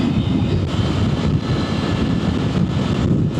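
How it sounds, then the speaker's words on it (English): Triumph Tiger 900 GT Pro (MY24) motorcycle with its 900 triple engine roaring steadily and loud on a ride, a continuous low rumble mixed with wind buffeting, no talk. "listen to it roar. That's got a nice roar to it."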